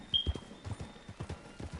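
Horse hooves gallop in the Assassin's Creed 3 video game, a fast rhythmic clip-clop of repeated thuds at moderate volume, steady throughout with a faint whistle-like tone near the start.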